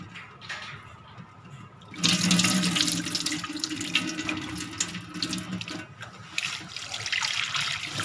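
Tap water runs steadily into a bowl as soaked lentils are rinsed for homemade Pakistani nimko, a continuous close splashing rush that swells louder after a quieter start.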